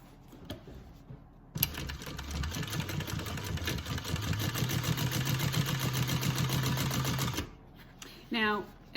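A sewing machine stitches a bag lining seam in a steady, fast run of close needle strokes for about six seconds, then stops; brief talk comes before and after.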